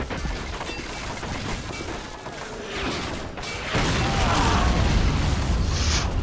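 A heavy explosion in the World War II strategy game Men of War Assault Squad 2 booms over a continuous din of battle gunfire, with a louder blast roughly midway that stays dense and roaring afterward.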